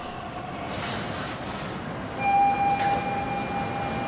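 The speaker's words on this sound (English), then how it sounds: "Patricia Massari catches the M train to downtown Manhattan" A New York City Subway M train rumbles steadily through Queens while its wheels squeal with long, high-pitched metallic whines on the rails.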